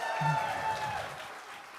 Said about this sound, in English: A final big round of applause for Emma.